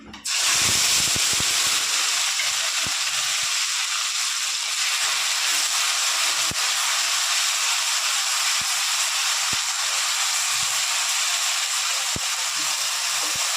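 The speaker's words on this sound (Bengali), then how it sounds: "এবার দিয়ে দেবো আদা পেঁয়াজ রসুনের আর কাঁচা লঙ্কার যে পেস্টটা, সেই পেস্টটা।" A paste of ginger, onion, garlic and green chili hits hot oil after cumin seeds, bursting into a loud sizzling hiss that holds steady with occasional sharp pops.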